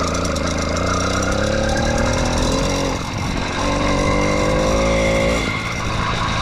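An 80cc two-stroke bicycle engine fitted to a 29-inch mountain bike runs loud and close, revving up and down with buzzing rasp and a brief dip midway, no talk over it.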